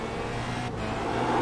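A Formula Renault 2.0 racing car in a sim racing game at Zandvoort drones steadily with a continuous engine tone that swells slightly toward the end as it accelerates, with no voices.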